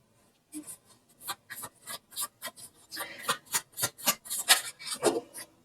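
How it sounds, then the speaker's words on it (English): Tarot cards are shuffled with a run of crisp riffling flicks and soft slaps, starting sparse and then quickening into a steady, fairly quiet rhythm with no talk. "That's me being a bad shuffler."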